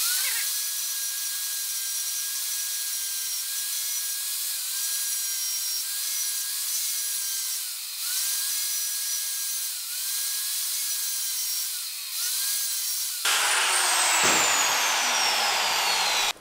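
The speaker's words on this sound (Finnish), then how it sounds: "Ja nyt voidaankin ottaa tuo rälläkkä käyttöön ja alkaa hiomaan." An angle grinder grinding the pin ends off a chain to shorten it, a loud steady high whine that dips briefly as the tool bites and lets up, ending in a rising spin-down and harsher scraping.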